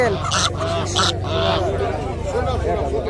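Geese honk repeatedly at a busy village market, nearby and fairly loud, mixed with people talking and general crowd babble.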